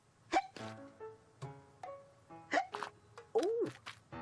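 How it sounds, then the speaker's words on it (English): Cartoon character Abney from The Adventures of Abney & Teal hiccups in a string of short, bouncy vocal bursts, several sharp yelps spread across a few seconds with brief pauses between them, fairly close and clear. "That is a lot of hiccups."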